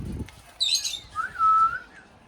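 Kiwi, a hand-tamed pet bird, gives a sharp high squawk and then a sustained whistling chirp, close and clear against a quiet room.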